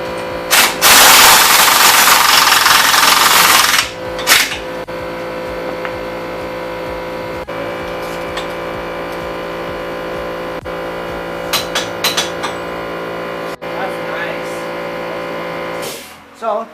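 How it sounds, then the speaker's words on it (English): An air compressor runs loudly and steadily through a wheel bearing swap on a 2003 Mustang, a hissing blast at the start, then a constant mechanical drone with occasional sharp clicks. "I didn't hear you over your compressor"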